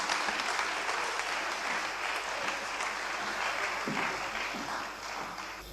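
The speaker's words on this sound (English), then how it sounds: "Let us give him a round of applause as he comes forward." Sustained applause from a graduation ceremony crowd, dense steady clapping that carries on without pause and fades slightly at the end.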